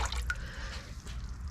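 Dye color poured into a pot of plain tap water, giving a brief dripping, trickling splash with a few light drops over a soft background.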